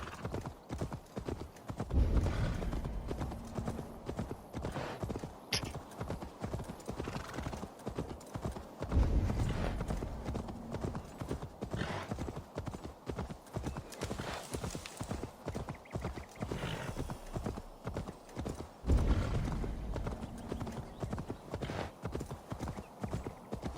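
Mule hooves clip-clopping steadily while ridden in Assassin's Creed Valhalla, a close, rhythmic trot with brief snorts and whinnies amid game ambience.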